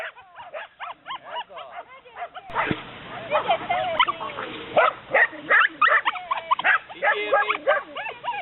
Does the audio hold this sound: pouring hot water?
no